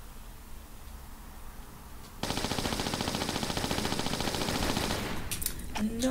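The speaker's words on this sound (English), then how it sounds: "So I'll just use what Uzi bullets" Sustained rapid Uzi fire at tigers inside a Tomb Raider level editor game, a dense unbroken burst of loud close shots running for several seconds after a quieter stretch, then cutting off into a few sharper tones.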